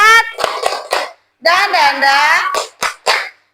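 A class of children does a rhythmic spirit clap (tepuk semangat), chanting in unison with sharp hand claps in short, patterned bursts separated by brief pauses.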